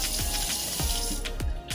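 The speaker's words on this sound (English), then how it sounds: "So I'm just going to pour some water in here with the bean water." Water poured into a pot of beans and bean liquid for Caribbean rice and peas, a soft continuous splashing trickle with a few bubbling glugs, fairly quiet and close.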